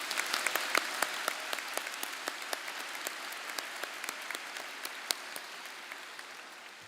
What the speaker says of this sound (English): So please give them a big, big round of applause.